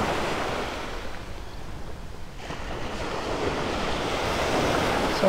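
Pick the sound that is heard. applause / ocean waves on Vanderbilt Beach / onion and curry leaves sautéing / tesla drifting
ocean waves on Vanderbilt Beach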